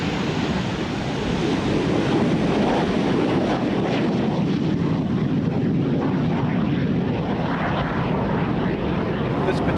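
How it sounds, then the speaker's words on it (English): A loud, steady roar of a Grumman F9F Panther jet fighter in flight, mixed with heavy wind noise and rumble. "Right now, this is the only flying Panther jet."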